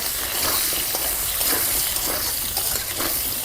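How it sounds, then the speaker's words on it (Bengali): Pointed gourd and pumpkin frying in hot oil in a village kitchen, a steady close hiss and sizzle with faint crackles throughout, no voices. "পটলটা আর মিষ্টি কুমড়া কিন্তু আমি আগে ভেজে নেব, প্রথমে কিন্তু ভেজে নিলাম"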